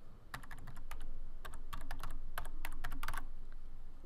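Someone types on a computer keyboard, a close run of quick, irregular key clicks in clusters over a faint steady background hum, with no speech.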